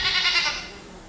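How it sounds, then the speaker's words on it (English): A goat bleats once, a loud, close, wavering cry that fades out within about half a second, with nothing else around it. "Did I just hear a goat?"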